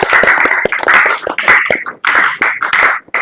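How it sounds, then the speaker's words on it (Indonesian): High school students in a classroom clapping together in loud, rhythmic bursts with short pauses between groups of claps, close and energetic. "Biar tetap semangat, tepuk tangan untuk 11 IPA 1."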